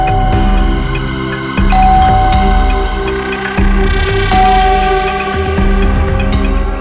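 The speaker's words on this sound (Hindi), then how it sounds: "डोरबेल क्यों बजा रही है?" A doorbell chimes in a home, with a loud repeating electronic ding-dong melody playing several times in sequence under a steady low drone.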